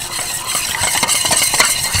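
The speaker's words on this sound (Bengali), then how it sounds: "এবার এই চালের গুঁড়োটাকে জলের মধ্যে ভালো করে মিশিয়ে নেব।" Rice flour is stirred into warm water to make a batter for chitoi pitha, producing a close, loud, continuous scraping and sloshing with soft repeated strokes and no talk.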